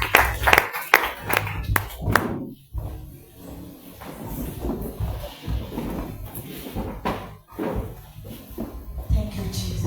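A church congregation at a women's Sunday service claps to welcome the preacher, with a burst of applause at the start followed by mixed voices, shuffling and scattered claps.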